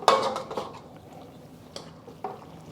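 Green onions and cilantro tossed into cooked sesame noodles, giving a sharp utensil clatter against the pan at the start, then a few lighter scrapes and clinks spaced apart, close and fairly quiet.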